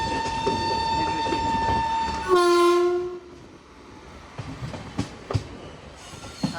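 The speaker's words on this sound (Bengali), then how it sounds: "ছেড়ে দিল আমাদের ট্রেন।" The Balurghat Express pulls out of the station: a loud, sustained horn blast, then a brief higher tone, followed by rolling wheel rumble and scattered metallic clanks as the train gets under way.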